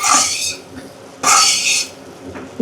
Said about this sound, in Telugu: ఇలా బాగా కలపాలన్నమాట ఇవన్నీ కలిసేటట్టు బాగా కలుపుకోవాలి